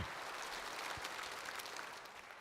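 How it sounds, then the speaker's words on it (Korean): Congregation in a church clapping together, a dense, steady wash of applause at moderate level lasting throughout, easing slightly toward the end. "완전하신 주님 앞에 여러분 박수합니다."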